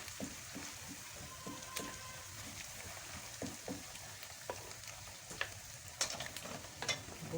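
Ginger and garlic fry gently over low heat in a pan for mustard greens saag, giving a soft, steady sizzle broken by faint scrapes and clicks of stirring.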